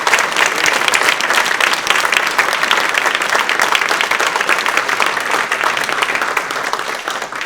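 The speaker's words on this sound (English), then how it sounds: "how about a moment of applause?" A moment of applause at a chamber gala in memory of a community member, many hands clapping loudly and steadily without pause, easing only slightly near the end.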